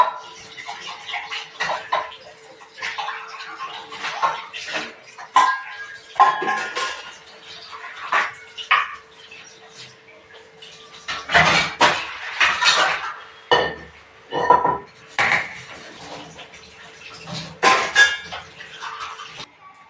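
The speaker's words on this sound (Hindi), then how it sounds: "ये बर्तन में मांज दूँ" Dishes being scrubbed and washed in a kitchen sink, with intermittent clinks and clatters of utensils and pots plus running water, in irregular bursts close by.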